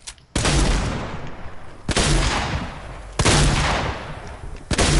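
Heavy weapon gunfire in the video game Fortnite, four loud, punchy blasts spaced about a second and a half apart, each with a booming low end and long rumbling tail, no talk.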